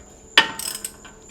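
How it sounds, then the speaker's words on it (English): A wrench works loose a tight 21 mm caliper bolt on an Audi S4 brake assembly, giving a sharp metallic crack followed by a brief burst of ratcheting clicks, close and alone. "now I'm removing the actual bolts that hold the caliper to the rotor or the wheel hub assembly"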